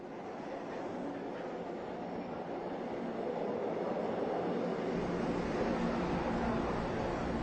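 Steady, low, rushing rumble of a subway train carriage in motion plays continuously and fairly quietly, with no voices over it.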